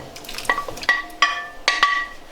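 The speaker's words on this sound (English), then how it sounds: "So we're going to add our shrimp that we already sauteed." Pre-sautéed shrimp going into a pan of Alfredo sauce, with a run of sharp metallic clinks and scrapes from a utensil against the pan, spaced irregularly over a couple of seconds in a quiet kitchen.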